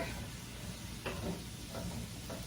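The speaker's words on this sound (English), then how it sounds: "I'm gonna let these vegetables cook" Vegetables sizzle steadily in a pan, a soft continuous hiss with a few brief stirring scrapes, no talking.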